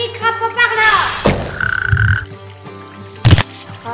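A toad croaks loudly and close, with a few bursty croaking calls broken by thuds and pauses.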